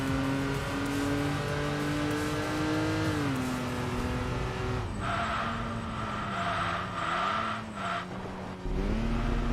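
In Enthusia Professional Racing, a minivan's engine drones loudly and steadily with rising and falling revs as it races, its pitch sweeping through gear changes, and tire noise joins the sound partway through.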